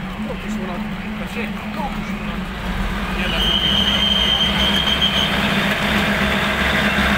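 An empty train of the State Railway of Thailand rumbles into Bang Sue Junction with a low steady drone of engine and wheels, joined by a high metallic squeal of wheels on rails as it approaches.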